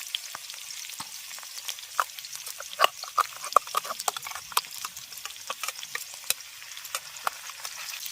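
Crackling, spitting sizzle of vegetables frying in hot oil with spice paste for shukto, with sharp pops and stirring scrapes scattered throughout.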